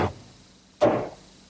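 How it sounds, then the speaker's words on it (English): Two sharp wooden knocks, less than a second apart and close by, as a wooden back frame for a secretary desk is tapped into place against 1/4-inch plywood in a woodworking shop. "I want to tap it up against the 1/4-inch plywood."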